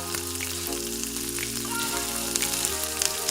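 Onions frying in oil and ghee inside a pressure cooker on a medium gas flame, a steady close sizzle with crackling pops throughout.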